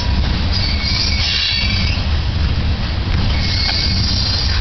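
A CP freight train led by locomotive 8602 rolls past the Klimpke Road crossing in Winnipeg, Manitoba, with a loud, close, continuous rumble of cars and wheels and faint squealing of metal on rail.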